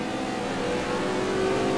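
A Corvette and BMW GT race cars accelerate hard during a race, their engines roaring in a dense, continuous drone that rises slightly in loudness, with no voices over it.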